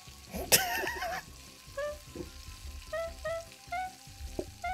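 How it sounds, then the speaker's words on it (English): Steaks frying on a kitchen stove in PlateUp, a soft sizzle running underneath, with a sharp clatter near the start and a run of bright beeping chimes repeating through the rest. "Boiling steaks."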